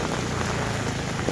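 Steady rain pours onto a full, flooded paddy field beside a village road on a wet morning, a dense continuous hiss of drops heard alone and close, without any voices.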